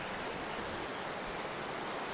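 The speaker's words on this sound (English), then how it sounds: "we're gonna soak our feet in the stream of water right there" A mountain stream with a tiny waterfall in the Italian Alps rushes in a dense, steady, close wash of water.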